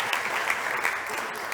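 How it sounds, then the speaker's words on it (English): Audience applause at a startup competition stage after a pitch by Anna: dense, steady clapping from a crowd, moderately loud and close, with a faint voice beneath. "big applause to Anna"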